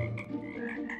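A magic frog in a Roblox video game croaks in a short, low, raspy rattle of steady moderate loudness, heard alone for about a second.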